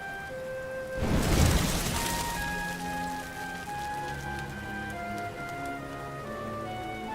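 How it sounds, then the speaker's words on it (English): Steady rain falls in the video game Dragon Quest XI, opening with a brief loud rush before settling into an even patter beneath soft background music. "Looks like the rain's dying down."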